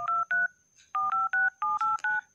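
Phone keypad tones sound as an international number is entered on a Telkomsel mobile, a clean run of short beeps, two, then a pause, then six more in steady rhythm, close and alone.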